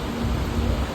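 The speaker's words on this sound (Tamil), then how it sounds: "மழை வருது, வேறு ஒன்றும் வரல." Steady rain falls close by during a train journey, a dense, even hiss with a low rumble underneath that lasts the whole second without a break.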